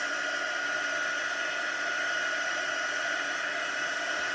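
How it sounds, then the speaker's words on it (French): Small heat gun melting embossing powder on paper blows a steady, loud airy whoosh with a constant motor hum, unbroken for several seconds and close up. "je prends mon petit pistolet chauffant jusqu'à temps que la poudre devienne vraiment brillante"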